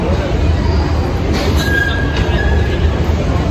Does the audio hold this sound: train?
yes